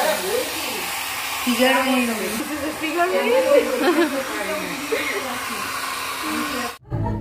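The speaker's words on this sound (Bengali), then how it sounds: "এই দেখো এখন ড্রায়ার দিয়ে মেহেন্দি শোকানো হচ্ছে" At a mehendi ceremony, a hair dryer blows steadily on hennaed hands with a loud, continuous whooshing hum, voices chatter over it, and the sound cuts off abruptly near the end.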